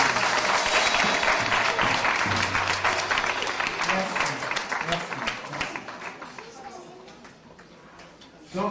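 Audience applause at a concert of drummers, a brass band and a choir, dense sustained clapping that gradually thins and fades, with voices mixed in over it.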